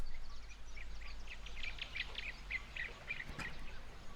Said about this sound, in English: I got this bird ambience peaceful sample off of Splice.